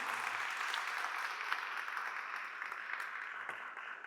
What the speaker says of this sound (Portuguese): Essas palmas foram ensaiadas.